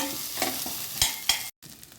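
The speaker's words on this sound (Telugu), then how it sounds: "కొంచెం గోల్డెన్ బ్రౌన్ వచ్చేదాకా, మరీ ఎక్కువ కాదు, ఈ కొంచెం వేగితే సరిపోద్ది" Onion and green chillies frying in a pan for fish curry sizzle steadily up close, with a few scraping stirs breaking through before a brief dropout and the hiss resuming.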